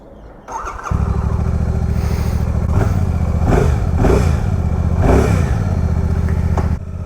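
A Royal Enfield Classic 650 motorcycle starts up close by, its engine catching after a brief crank and settling into a loud, steady idle with a few light throttle blips.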